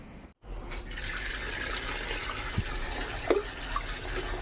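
Water pours steadily into chopped wild sakroba greens in a cooking pot, a continuous close splashing rush with a few small knocks and drips over it.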